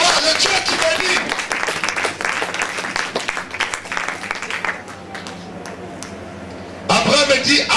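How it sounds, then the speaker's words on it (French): A church congregation applauds during a sermon, loud massed clapping that rolls on for several seconds, then thins and fades before another burst of noise returns, with voices over it. "Applaudissez un peu, je vais voir le Dieu qui bénit."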